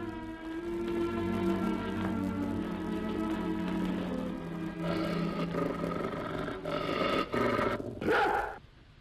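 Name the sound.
dog growling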